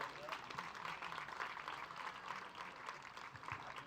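Crowd applause at an evening junior livestock show, a steady wash of many hands clapping for the young exhibitors, held at an even level throughout with faint voices mixed in.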